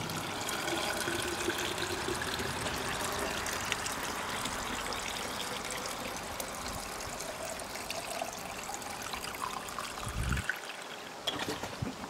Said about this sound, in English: I'm just gonna fill this jar up with some rainwater